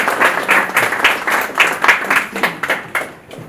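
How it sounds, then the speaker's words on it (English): An audience at a talk on the coconut value chain gives a round of applause, dense and fairly loud clapping that swells and fades over a few seconds. "A round of applause for this."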